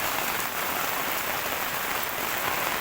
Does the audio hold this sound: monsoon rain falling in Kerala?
yes